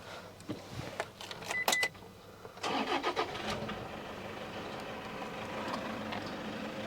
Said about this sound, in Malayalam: ഞാൻ ഏതായാലും ഒന്ന് സ്റ്റാർട്ടും കൂടി ചെയ്ത് കഴിഞ്ഞാൽ നമുക്ക് അതിൻ്റെ ഒരു എൻജിൻ്റെ വർക്കിംഗ് കാര്യങ്ങളും നിങ്ങൾക്ക് മനസ്സിലാവും